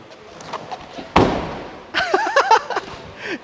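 A Daihatsu Ayla car door slammed hard: one loud, sharp thump after some faint handling noises, followed by brief voices talking nearby.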